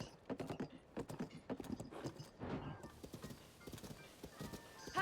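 Horse hooves clip-clop in a steady, quick trotting rhythm in the video game Zelda: Tears of the Kingdom, fairly faint, with occasional creaks of tack and a short whinny near the end, no talking.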